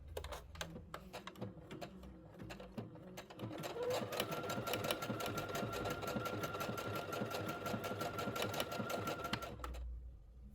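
Singer SE9185 sewing machine stitching a decorative appliqué stitch, a fast, even mechanical rattle of needle strokes close by that speeds into a steady run with a whining motor hum, then stops abruptly.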